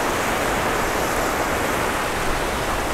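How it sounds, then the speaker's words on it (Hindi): Snowmelt water rushes down a mountainside on the road from Naran to Babusar Top, a steady loud broadband roar of torrent flow with no pauses. "बर्फ़ जो पिघली है उसका पानी नीचे आ रहा है"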